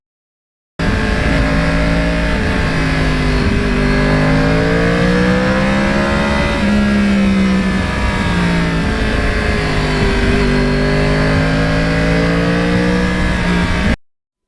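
A Yamaha R1 crossplane motorcycle engine revving continuously, its pitch rising and falling in waves with a throaty, uneven rumble, loud and close throughout.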